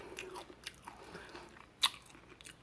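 Hot Cheetos topped with melted cheese are bitten and chewed close up, giving a few soft crunches and one sharp, loud crunch amid quiet mouth sounds.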